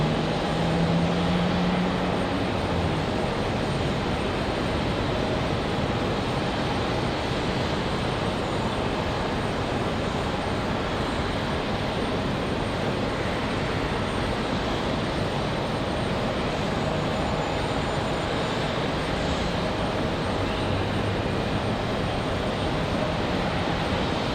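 An Aeromexico Boeing 737 MAX 8 roars at an airport in windy conditions, a steady, broad, loud jet engine noise that holds evenly from start to finish without a break.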